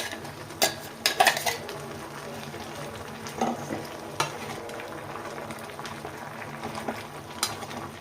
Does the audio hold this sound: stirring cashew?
yes